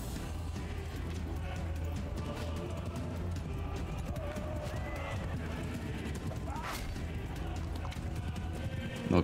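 Horses gallop and neigh amid a battle in Mount & Blade II Bannerlord, hoofbeats and whinnies mixed with clashing combat noise and someone talking over the steady din.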